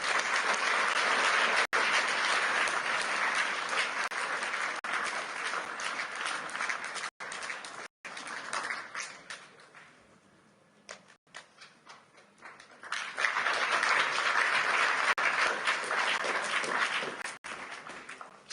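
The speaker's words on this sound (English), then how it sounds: "we can give them also a big hug and applause" Audience applause at the Davos closing session, loud sustained clapping from a large crowd that dips and thins to scattered claps midway before swelling again, no talk.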